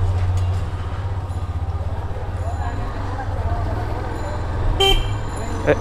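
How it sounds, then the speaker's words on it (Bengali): A Hero Xtreme 125R motorcycle gives a single short, fairly plain horn beep near the end, over a continuous low engine rumble while riding. "এই তো হর্নটা একটু নর্মাল হয়ে গেছে, ডাবল হর্ন ইউজ করতে পারতো"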